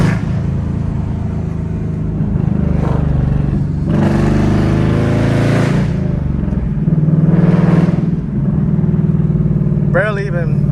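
A Nissan 350Z HR with a cat-delete exhaust drones loudly from inside the cabin, rising and falling in pitch with light throttle, while someone talks over it.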